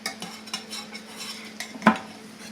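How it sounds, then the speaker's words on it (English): Hershey's cocoa powder is stirred into Cincinnati chili in a crock pot: a few soft scraping stirs, then one bright metallic clink of a spoon against the pot, close and quiet, with no speech. "And I'm just going to dump that in and mix that, just kind of stir it around and mix that together."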